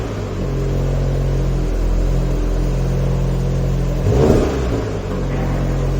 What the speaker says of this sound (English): So now let's hear the sound of the car.